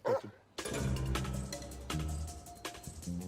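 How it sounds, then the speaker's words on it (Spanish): A large mastiff dog lets out a series of deep, loud barks and yips, each followed by short pauses, fairly close and with no talking. "Y ahora el mastín. Este es el mastín."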